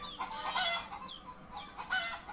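Chickens cluck in short bursts, with rooster-like calls rising and falling over a soft background, alone without speech.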